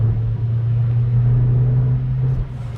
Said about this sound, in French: le bruit, dès que tu dépasses les 4000 tours